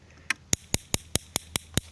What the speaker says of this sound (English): And what you're hearing there is the spark gap